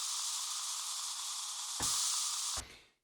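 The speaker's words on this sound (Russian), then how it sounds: "Здесь, например, white noise." A white noise effect triggered on a Launchpad hisses as a loud, broad wash of static, swells brighter near the end, then cuts off and fades quickly.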